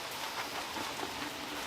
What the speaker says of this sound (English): We're outside because it's raining